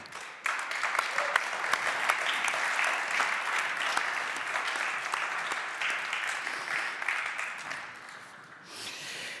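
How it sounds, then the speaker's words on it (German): An audience at a German university award ceremony applauds, a steady, dense wash of clapping that holds for about eight seconds before tapering off. "Einen Applaus."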